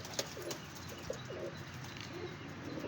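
Pigeons coo in soft repeated low calls at a pigeon loft show, with a steady rustling background and a few sharp clicks, no talking.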